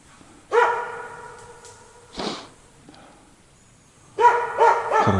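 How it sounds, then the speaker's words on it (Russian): A dog barks loudly in the taiga in a few separate bursts, a single bark, then a pause, then a quick cluster of barks close by. "Лай идеальный."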